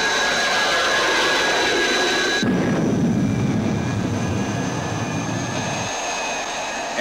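A loud, steady roar of chemical rocket engines firing at launch in the 1966 Thunderbirds Are GO film, with a broad rumble that swells midway and holds, with no speech.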